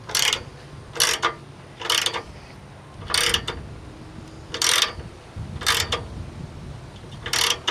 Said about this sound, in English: So there are two bolts that he's gonna do for me, because I just can't grab the socket to do it.